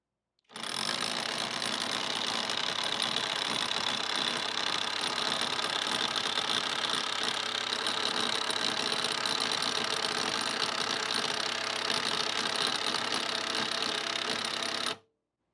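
A Hyper Tough 12V brushless 3/8-inch impact wrench hammers away continuously for about fourteen seconds in second gear, a steady, loud, rapid mechanical rattle with no pauses and no voices over it.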